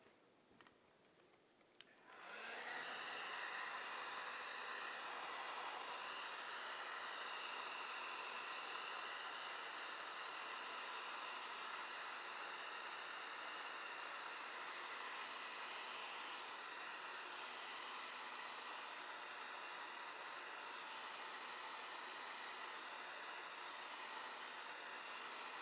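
After a short quiet start, a hair dryer switches on and blows steadily for over twenty seconds over a watercolour landscape painting, a constant, airy, broadband whoosh heard alone.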